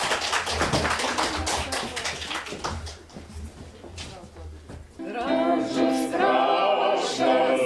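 A village evening gathering in Kazitiškis, Lithuania, where an audience claps in a dense, lively burst to welcome the local singers. The applause fades after a few seconds and singing begins.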